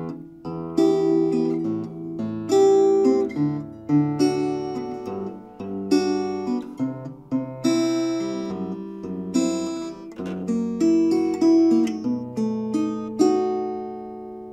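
Fingerstyle guitar plays the Stalker theme from the start, plucked arpeggiated chords with bass notes and melody, moving at a moderate, flowing pace and heard clearly and alone.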